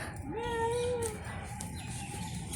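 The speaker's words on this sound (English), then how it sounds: "Look at that peacock." A loud, wailing peacock call at a zoo, one rising nasal cry that trails off over steady outdoor background noise.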